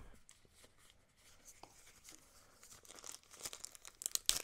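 A BenQ W4000i projector's remaining accessories are unpacked from a cardboard box, with quiet crinkling of plastic wrap and packaging, small tearing and rustling sounds that grow busier toward the end, close and soft.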